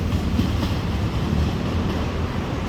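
Hitachi 4521 locomotive easing an express train into Lak Si station, a steady low rumble of rolling wheels and engine that holds level throughout without clear clicks or horn.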